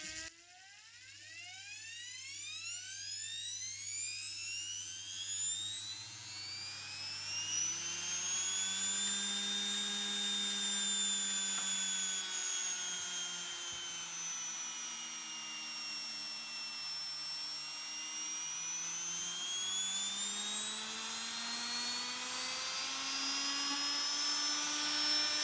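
Hotwired Matsui electric motor running steadily on mains voltage up to about 265 volts, a loud continuous whine rising and falling in pitch with layered harmonic tones, close up and alone for the whole stretch.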